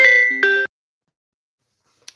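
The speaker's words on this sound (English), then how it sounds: "That was a phone call." Phone ringtone for an incoming call, a short bright two-part melodic chime that stops abruptly, followed by silence and a faint click.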